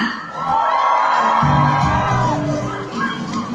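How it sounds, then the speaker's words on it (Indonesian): A crowd at the Aceh tourism ambassador pageant final night erupts in loud, sustained cheering, with whoops and yells rising over the din and holding steady for several seconds. "beri tepuk tangan yang meriah untuk Duta Wisata dari Kabupaten Aceh Tenggara"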